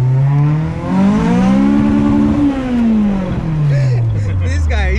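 A 1992 Honda Civic EG engine revs up to a high pitch, holds, then winds back down, loud and close, with a voice briefly underneath.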